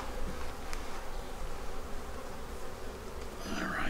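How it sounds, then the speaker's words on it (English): Steady, dense buzzing of bees around a hive close by, a continuous drone with a brief higher whine near the end. "We don't want the bees flying in the old crevasse."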